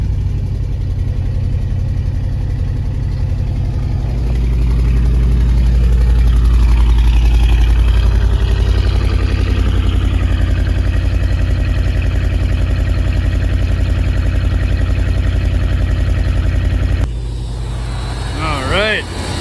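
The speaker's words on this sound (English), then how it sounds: "Alright, it's running, but I'm pretty sure we're on battery power only." A 1966 Ford Thunderbird with an abandoned-project engine, running on battery power only with no working alternator, idles in a steady, loud, continuous rumble, with a brief shift near the end.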